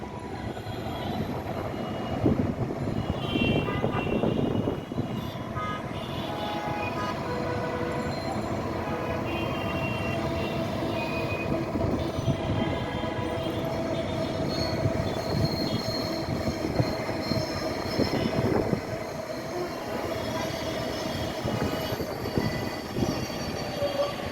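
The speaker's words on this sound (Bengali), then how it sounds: "এখন আমরা দেখতে পাচ্ছি একটি মেট্রো রেল আসছে খুব দ্রুত বেগে" A Dhaka metro rail train passes at speed near the Press Club area, a sustained rumble of wheels on track with squealing tones and clattering, steady and fairly close for over twenty seconds.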